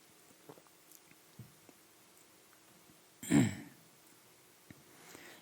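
A single rough throat clearing cough stands out in a quiet church during a Sunday sermon, surrounded by faint small mouth and movement noises.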